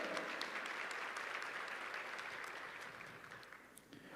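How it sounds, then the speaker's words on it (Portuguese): A church congregation applauds steadily during a sermon, a dense, sustained wash of many hands clapping that holds for several seconds and fades slightly toward the end. "Vamos aplaudir o sangue de Jesus com todo respeito"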